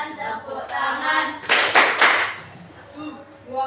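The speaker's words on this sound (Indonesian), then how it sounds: "3, 6, 9, tepuk tangan" Children in a classroom clap their hands during a counting-multiples game, a few scattered claps followed by a louder burst of group clapping, with voices chanting around them.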